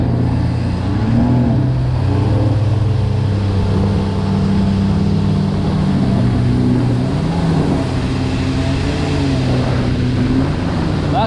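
A Yamaha GP701 jet ski cruises carefully through a course on open water, its engine droning steadily and close by for the whole stretch, with water rushing underneath and no voices.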